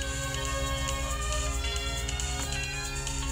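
A mobile phone ringtone plays loud and close, a dense electronic melody with a continuous repeating pattern and no talk over it.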